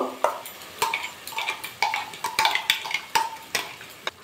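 Ground poppy seed, mustard and green chilli paste goes into a pan of spiced cauliflower curry and is stirred, giving a run of close metallic scrapes and clinks from the spoon against the pan at an uneven rhythm.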